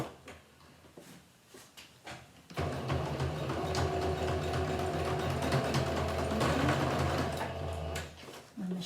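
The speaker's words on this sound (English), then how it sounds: "My machine keeps eating this fabric." Sewing machine stitching through layers of fabric for an eye pillow, a steady close mechanical whir running continuously from about the third second after quieter handling sounds.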